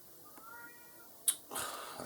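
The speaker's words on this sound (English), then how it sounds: "now this cat's making weird noises and my cat ran away" A cat lets out odd, strained meows: a faint short cry, then a sharp yowl and a longer rough call near the end, close by in a quiet room.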